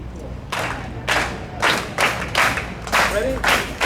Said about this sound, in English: you can clap on the first syllable